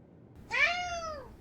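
A single cat meows once, clear and close, in a rising then falling cry about a second long against a quiet background.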